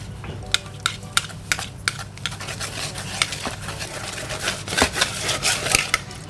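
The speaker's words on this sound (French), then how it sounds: "Et on va venir mélanger tout ça avec un fouet." Batter with baking powder whisked in a bowl for a light doowap recipe: a rapid run of clicking, scraping metal strokes, close and busy, picking up toward the end, with no talking.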